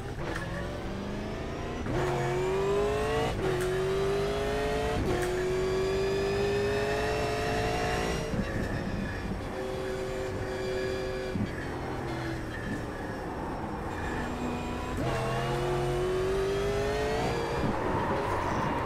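A race car engine in the sim racing game iRacing revs through its gears, climbing in pitch again and again with shifts between, loud and steady with no talking.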